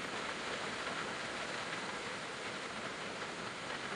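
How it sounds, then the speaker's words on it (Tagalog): Heavy rain and strong wind pound down in a steady, loud, unbroken hiss that fills the whole clip, with no voices over it. "Sobrang lakas po ng ulan at hangin po dito."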